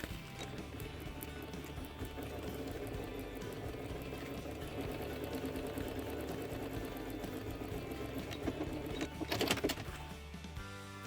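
A sewing machine stitches steadily over tissue paper while making a thermal lunch bag, a continuous close mechanical whirr with a brief louder burst of rattling near the end.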